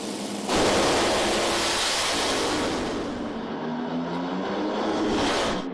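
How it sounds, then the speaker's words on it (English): Top Fuel dragsters at the 2008 IHRA North American Nationals, Bruce Litton's Lucas Oil car against Bobby Lagana, erupt into a loud, sustained roar that swells suddenly and holds, then surges again at the end. "This ought to be a good old drag race."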